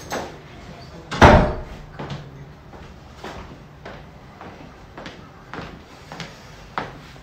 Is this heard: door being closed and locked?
yes